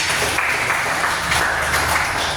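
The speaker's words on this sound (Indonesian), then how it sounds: "Jadi tepuk tangan dong" Classroom applause, with students clapping together in a quick, dense patter that stays steady and fairly loud for a couple of seconds.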